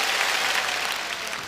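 A crowd gives a round of applause for Bray, a dense, steady wash of clapping that holds at an even level throughout with no voices over it.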